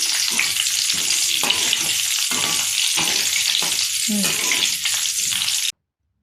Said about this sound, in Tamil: கொஞ்சம் கருவேப்பிலையை வறுத்துக்கிறேன்